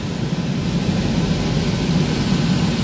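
An air conditioning unit's blower fan runs steadily on an after-hours no-cooling service call, giving a constant airy rush over a low droning hum with no talking.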